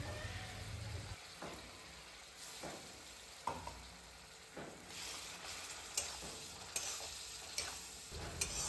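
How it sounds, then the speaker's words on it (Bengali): Paste of onion, garlic, ginger and green chili frying in a little oil for chicken curry, a faint steady sizzle broken by occasional spatula scrapes and light clicks against the pan. "তো এখানে আমি ভালোভাবে মশলাটা কষিয়ে নিচ্ছি"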